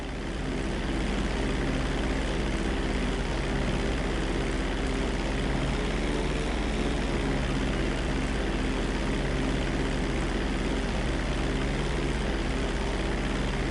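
Propeller airplane taking off in GTA V, a loud, steady, droning engine roar with a strong low hum that holds throughout, close and alone.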